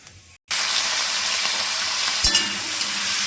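Chopped tomatoes drop into hot oil tempered with dried red chillies and five-spice for a tomato chutney, giving a sudden loud, steady sizzle after a brief silence, with a small splash-like bump midway.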